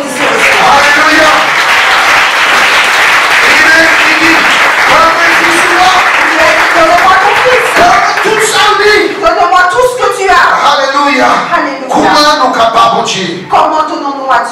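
A church congregation claps and cheers in a loud, sustained burst that fills the room, then thins out as a voice begins speaking over the fading applause.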